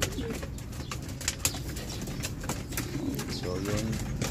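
Homing pigeons cooing softly nearby with bursts of wing flapping, over a steady background hum.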